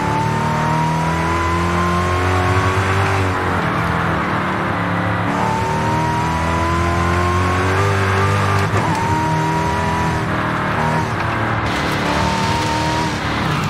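Supercharged Dodge Charger engine under heavy load in Forza Horizon 5, a loud continuous roar with rising pitch sweeps through the gears and supercharger whine, close and unbroken for the whole stretch.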